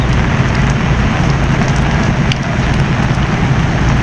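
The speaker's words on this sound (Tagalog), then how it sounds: "maulan-ulan ang panahon ngayon" Heavy rain pours steadily onto a ship's deck, a dense loud hiss that holds constant throughout with no voices.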